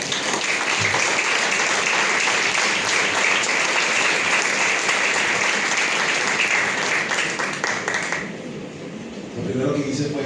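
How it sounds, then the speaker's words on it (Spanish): A church congregation applauds loudly and steadily as a dense wash of clapping that runs for about eight seconds, then drops off to quieter room noise, with a brief swell of clapping returning at the end. "Vamos a dar un fuerte aplauso al Señor"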